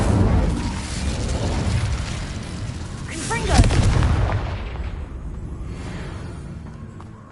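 Confringo explosive spell cast in Hogwarts Legacy, a heavy booming blast with a rumbling, artillery-like roar that peaks midway and then fades into a long decaying tail.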